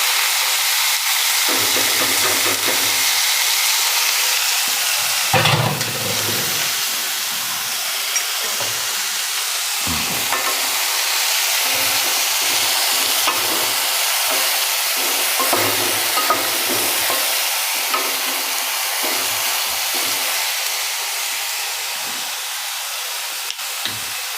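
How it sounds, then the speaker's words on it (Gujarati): Cumin and mustard seeds sizzle and crackle steadily in hot oil for an onion flour-coated curry, a loud continuous frying hiss close by with faint stirring and no talk. "જીરું રાઈ મસ્ત તતડી ગયા છે"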